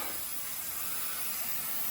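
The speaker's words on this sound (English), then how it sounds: "So I got the steam box fired up," Steady, loud hiss of a fired-up steam box pumping steam for bending canoe ribs on a skin-on-frame canoe, a continuous even rush with no pauses or voices.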